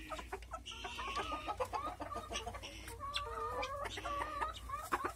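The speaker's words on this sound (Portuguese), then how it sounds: "Aqui mais uma baia de sedosa do nosso galo Red Pile aí, com as galinhas pretas e uma perdiz" Silkie hens with a Red Pile rooster, black hens and a partridge-colored hen in an ornamental poultry pen cluck and murmur continuously, several birds overlapping at close range over a low background hum.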